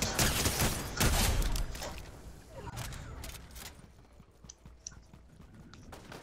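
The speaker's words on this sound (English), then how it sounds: "Someone just shot at me just now" Gunfire in Fortnite during a Zero Build squads match, with a dense burst of loud shots near the start fading into scattered, fainter cracks and clatter.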